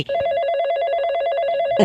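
A phone ringing on a call to a friend named Nanki, a steady repeated ring tone with a bright buzzing pulse that runs alone for about two seconds in a cartoon comedy.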